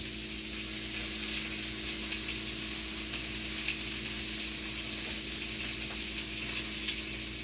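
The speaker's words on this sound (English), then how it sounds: "So I'm going to go ahead and sear it all the way around the steak." Beef filet searing in a hot pan, giving a steady, continuous sizzle and hiss throughout, close and even, with a low constant hum beneath and no talking.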